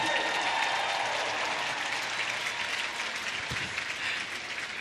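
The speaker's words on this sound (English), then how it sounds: "Such an enthusiastic, superbly brilliant crowd here in Dublin" Enthusiastic crowd at a Dublin show jumping Nations Cup applauding, a dense, steady wash of clapping from a large audience, sustained and even, with a soft thud partway through.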